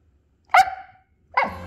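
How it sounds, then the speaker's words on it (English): A husky gives two separate barks, the first a sharp yelping bark and the second a rougher one, close and loud with short silences around them and no talking. "Aw, Skaya, are you helping nurse your baby husky back to health?"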